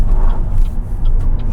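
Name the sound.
BYD Dolphin electric car accelerating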